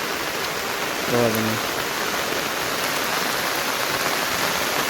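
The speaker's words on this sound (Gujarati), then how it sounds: "આજે વરસાદ છે" Heavy, steady rain pours over flooded farm fields in Gujarat during the season's first downpour, a dense continuous hiss filling the whole stretch, with a man's brief spoken words near the start.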